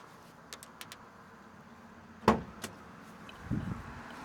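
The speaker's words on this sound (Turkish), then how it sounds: "Aynen herhangi bir kaputu aç arabalardan." A car hood being opened: a sharp latch-and-panel clunk near the middle, then a smaller knock and a low rumbling thump after, between faint light clicks, with no talking.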